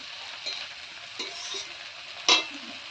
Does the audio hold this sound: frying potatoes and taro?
yes